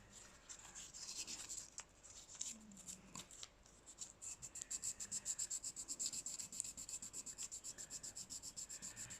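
Wet and dry sandpaper rubbing over Milliput in small circles, a soft, close, rhythmic scratchy swishing that starts irregular and settles into quick, even strokes, quiet with no talking.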